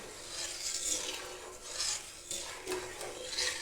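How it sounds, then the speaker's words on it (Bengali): Rice paste being stirred in a pot, heard as a rhythmic scraping and rasping of a utensil against the pot bottom, repeating in close, steady strokes with no talking. "এটা একভাবে নাড়তে হবে তা নাহলে তলায় জমা ডুবে যাবে"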